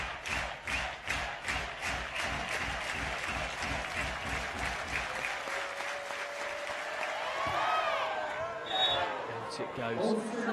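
A home crowd at a beach volleyball match in Ostrava claps in steady rhythmic unison, then the clapping gives way to cheering and a commentator talking over it.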